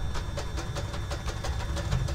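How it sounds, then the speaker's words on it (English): A just-started engine settles into a steady, rhythmic idle with regular knocking pulses, loud and close, running alone without talk. "So now that engine will stabilize over there."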